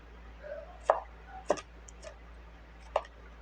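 A knife slicing vegetables lengthwise in a small home kitchen gives three or four sharp, separate chops against a cutting board, close and fairly quiet, with no talk.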